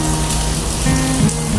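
Rain falls steadily and loudly onto surfaces close by, a dense, even patter that carries through the whole short stretch with no one speaking.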